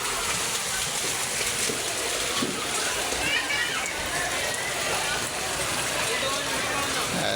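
Floodwater sloshing and splashing steadily around a motorcycle and sidecar riding through a flooded street in rain, a continuous broadband wash of water noise with people talking over it.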